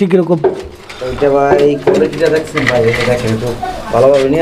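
A pair of very large king pigeons coos close by, the soft repeated calls mixed with near, loud talking throughout.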